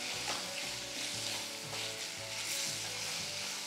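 Chopped okra frying in a hot pan, a steady crackling sizzle with soft stirring scrapes in rhythmic bursts, close and alone with no talk.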